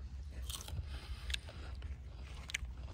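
Someone bites and chews a crunchy, watery saadan plant from Unaizah in Qassim, giving a few sharp close crunches with soft chewing in between, quiet and without talk.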